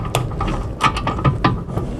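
A torque wrench tightens a suspension bolt on a Volkswagen Golf 6 to 90 newton-metres, giving a few close, dry ratcheting clicks in short bursts against a steady low background hum.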